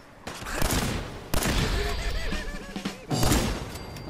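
Modded weapons firing in Fallout 4, including a mini nuke pistol, in a few loud bursts of rapid gunfire with crashing impacts, separated by short gaps.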